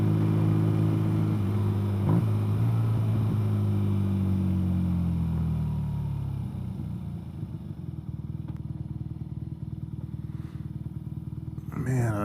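A BMW R nineT motorcycle on a commute, its engine droning loudly and steadily at first, then settling into a lower, rougher rumble with wind noise as it cruises, ending in a brief clatter.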